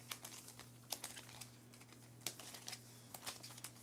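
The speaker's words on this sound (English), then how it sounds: "So we shuffle these up." A small deck of board game plan cards is shuffled up close, giving soft irregular riffling taps and flicks in short bursts against a quiet room hum.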